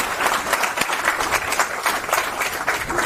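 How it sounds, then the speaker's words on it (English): A seated audience at an advocates' conference applauds the interpreters with a steady, dense burst of many hands clapping together, loud and close, with no speech over it. "put a round of applause to all the interpreters who are present here today"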